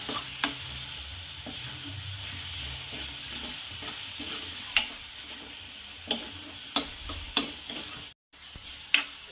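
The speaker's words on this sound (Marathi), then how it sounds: "छान असं हलवत राहायचं आहे" Red chilli and garlic thecha being stirred and fried in a pan, with a steady low sizzle and a run of sharp spoon taps against the pan near the end.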